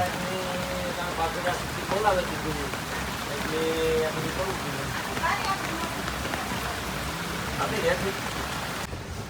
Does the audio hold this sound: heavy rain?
yes